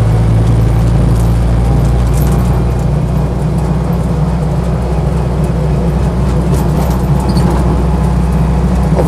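A Land Rover Lightweight cruising in top gear, a loud steady engine drone with heavy low rumble and road noise from inside the vehicle, unbroken throughout.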